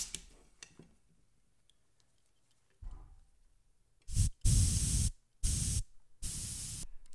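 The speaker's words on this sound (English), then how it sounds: "now that we got the airbrush pushing air" Shop compressor air driving an airbrush after its quick disconnect is bypassed, heard as a quiet start followed by several loud bursts of hissing spray, each lasting under a second, with short gaps between them.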